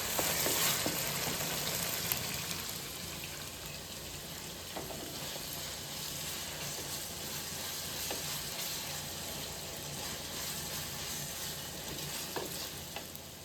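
Ginger, garlic and onion fry steadily in a clay pot, a dense continuous sizzle with occasional stirring scrapes, close and fairly loud with no voices.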